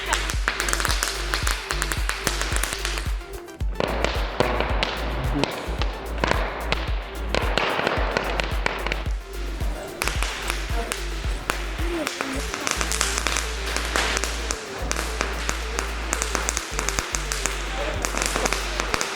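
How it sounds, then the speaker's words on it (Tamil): A long AK-47 firecracker string from Lima Fireworks bursts in a rapid, continuous crackle of loud pops that keeps going for many seconds, with people talking over it. "இந்த AK-47 வந்து மினிமம் 2 minutes அது வெடிச்சிருக்கும்"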